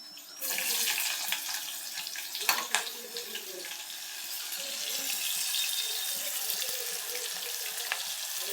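Sliced onion hits hot oil already holding bay leaf, cinnamon, star anise, black and green cardamom, cloves and pepper, setting off a loud, steady, hissing sizzle that holds nearly unbroken close by.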